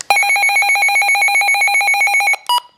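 A Midland weather radio's alert test tone, a rapid electronic warbling, rings steadily for over two seconds, then cuts off and gives a brief final chirp, loud and close.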